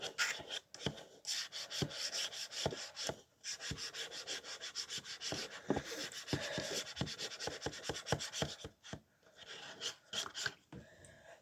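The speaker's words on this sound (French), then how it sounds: "Je dois gratter ce qui est au fond." Residue is scraped from the bottom of a container in a long run of close, steady rasping strokes, rhythmic and dense, with brief pauses and no talk.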